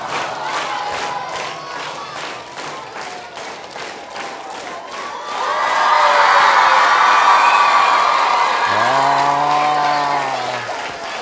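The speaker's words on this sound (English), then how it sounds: "But I need everybody to clap" Elementary school children in a gym clap rhythmically and then burst into loud cheering and shouting, with a whistle-like tone rising near the end.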